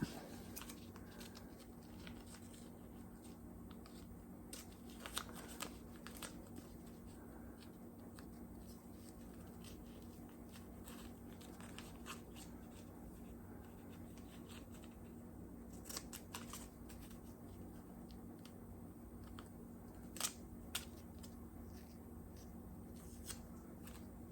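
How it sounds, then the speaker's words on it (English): Scissors snip steadily through a tape pattern to cut out a circle template for a mirror delete on a 1972 VW Super Beetle, crisp close cuts in irregular bursts over a low steady hum. "Now I'll cut that circle out."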